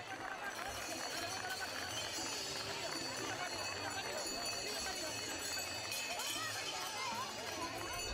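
A horse-drawn traditional tartana cart arrives at a San José Obrero pilgrimage festival in Cruce de Arinaga, its hooves clip-clopping steadily amid festive crowd noise, with voices talking throughout.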